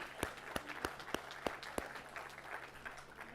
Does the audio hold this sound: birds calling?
no